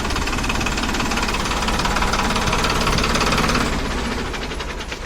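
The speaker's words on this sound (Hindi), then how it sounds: "बाइक का न्यू ट्रैक्टर देखो दोस्तों, 10 लाख रुपए का न्यू ट्रैक्टर है।" A new tractor engine runs steadily and loud close by, a dense rattling, knocking drone that holds even for most of the stretch before easing slightly toward the end.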